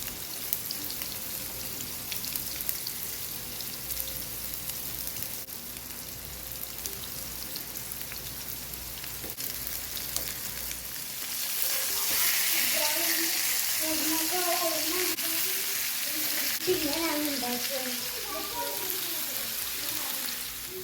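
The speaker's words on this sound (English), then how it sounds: "heating some coconut oil, add the fish pieces" Fish pieces drop into hot coconut oil with garlic and green chili, and a sizzle builds halfway through into loud, steady frying with crackles and pops. A voice is heard faintly in the background.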